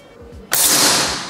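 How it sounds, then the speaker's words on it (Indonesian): An air rifle is fired once, pointed upward, giving a single sharp, loud crack partway through followed by a brief fading rush of noise after a quiet lead-in. "diarahkan ke atas dan langsung ditembakkan ya"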